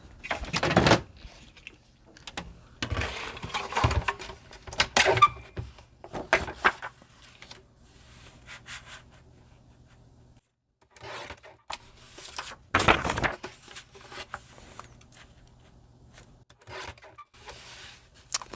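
Paper sheets for a junk journal being trimmed together, giving scattered rasping cuts and rustling in short bursts with quiet gaps, close by and fairly soft, no talking.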